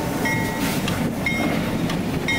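A freight train on the old Delaware & Hudson line, its locomotives hauling empty backhaul cars south in winter: a loud, steady rumble and rolling rattle of cars passing close by, with faint whining tones riding on top and no talking.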